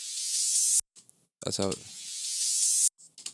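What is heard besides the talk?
white noise sweep without tremolo, soloed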